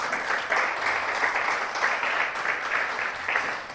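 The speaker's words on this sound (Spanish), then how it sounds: "¿Cuánto le dan un buen aplauso al Señor por eso en esta noche?" A church congregation breaks into steady applause during an evening service, a dense wash of clapping that holds evenly throughout with no voices standing out.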